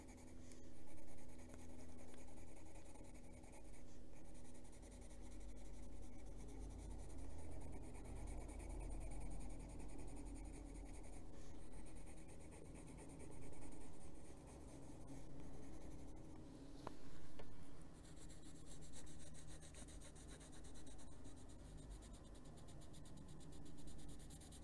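Colored pencil in Sap Green Light is laid down on paper for adult coloring, a soft, steady scratchy rubbing of strokes that continues throughout, close and quiet with no talking.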